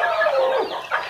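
Chickens cluck and call close by in a short, loud burst of rising and falling notes.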